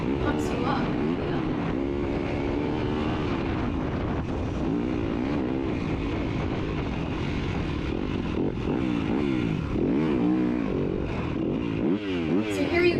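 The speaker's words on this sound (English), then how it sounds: "So here you guys see me revving up my engine." A dirt bike engine revs during a harescramble race on a Florida trail at Peace River, Bartow, a continuous buzzing drone rising and falling in pitch, with voices talking faintly underneath.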